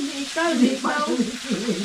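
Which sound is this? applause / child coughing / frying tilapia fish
frying tilapia fish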